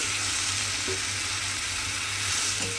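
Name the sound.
fish being stirred with added water in a cooking pan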